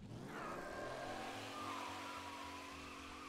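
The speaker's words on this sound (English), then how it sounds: "Oh, this is a car." A car engine revs and whines at high speed, a steady mechanical drone with a rising pitch, fairly loud and with no voices over it, in the video game Mafia: Definitive Edition.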